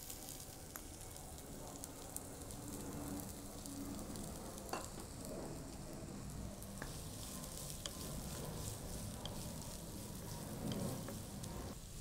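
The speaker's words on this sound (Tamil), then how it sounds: "இப்போ இந்த வெங்காயம் கொஞ்சம் வதங்கி இருக்கு" Finely chopped onions sautéing in hot oil with a pinch of salt for veg masala idli, a dense continuous crackling sizzle with occasional faint stirring clicks, steady and close throughout.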